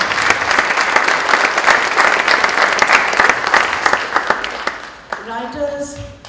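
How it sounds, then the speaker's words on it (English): Festival audience at a literature festival's inaugural session applauds in loud, dense, close clapping for about five seconds, then it breaks off as a voice begins speaking. "So a very big round of applause for all of you as well."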